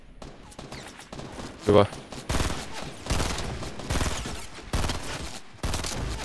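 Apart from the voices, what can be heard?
gunfire in the video game Fortnite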